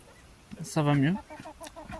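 A single broiler chicken lets out a loud, drawn-out squawk up close, followed by a few softer clucks.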